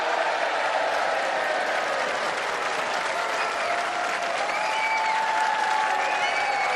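A crowd at a snooker arena applauds continuously in a dense, sustained wash of clapping that stays level from start to finish, with a faint voice beneath.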